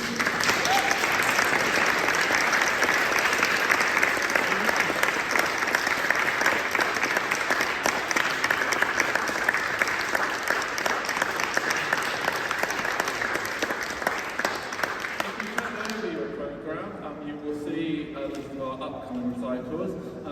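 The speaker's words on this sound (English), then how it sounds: "So can we all give them one big round of applause?" An audience in Sheffield Cathedral breaks into sustained, dense applause that rings through the stone interior for about fifteen seconds before dying away, leaving a reverberant hush with faint voices.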